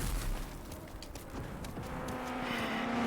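Engine rumble of cars approaching in the video game RAGE 2 builds steadily, a low droning hum rising in loudness with scattered thuds and a faint tonal whine, no talking.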